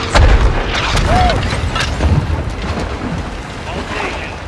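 Artillery strike explosions in the Call of Duty Modern Warfare II war game: heavy low booms rumble through a loud, continuous roar of battle, one blast swelling near the start and more following, with faint radio chatter and ambient noise.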